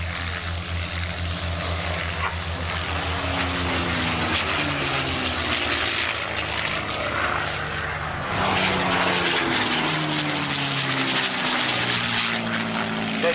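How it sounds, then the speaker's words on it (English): Spitfire and Hurricane warbird propeller fighters flying past at the Shoreham airshow, a loud continuous piston-engine drone with shifting tone as the aircraft pass, swelling again near the end. "we all come here to see Spitfire and the Hurricane"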